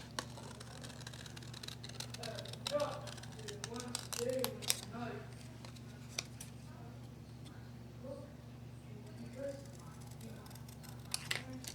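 Scissors snip through a paper craft piece in a series of quick, crisp cuts that come in bursts at close range, with a steady low hum in the background and a person talking between the cuts.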